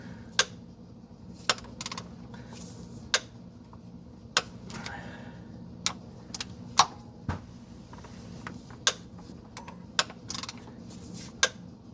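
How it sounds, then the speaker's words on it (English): A torque wrench tightening crankshaft bearing cap bolts on an engine: sharp metallic clicks at irregular intervals, roughly a dozen over a quiet low background hum, fairly close. "I'm using the torque wrench."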